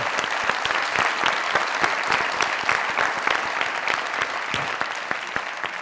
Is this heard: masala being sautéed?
no